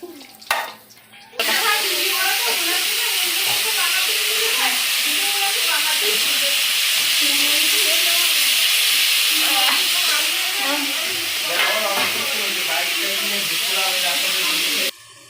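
Fish fries in a pan with a loud, continuous hissing sizzle that holds steady for over ten seconds, and voices talk faintly underneath.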